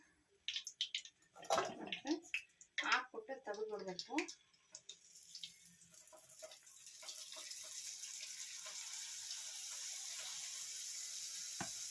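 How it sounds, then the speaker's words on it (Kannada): Sweet boondi batter drops into hot oil and builds into a steady, close bubbling sizzle that carries on alone after a few seconds of someone talking. "ಸ್ವಲ್ಪ ಎಣ್ಣೆ ಕಾದಿರಬೇಕು ಕಾದ ತಕ್ಷಣ ಹಾಕ್ಬಿಟ್ಟು ತೆಗೆದು ಬಿಡಬೇಕು"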